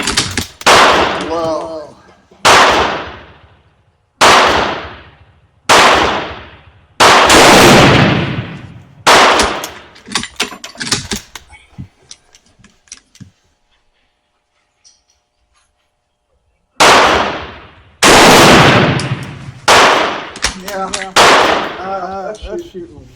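Loud, close rifle shots from Mauser bolt-action rifles, one Turkish and one Romanian, fired in spaced single reports about every one to two seconds at a shooting range, with a quiet pause midway and a brief spoken exclamation between shots.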